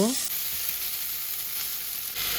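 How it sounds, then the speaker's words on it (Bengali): Ginger garlic paste sizzling in hot oil in a pan, a steady close frying hiss that follows a short clatter as the paste drops in, running evenly throughout. "এক টেবিল চামচ আদা রসুন বাটা ভর্তি করে দিয়ে দিলাম এটাকে সামান্য ভেজে নিব"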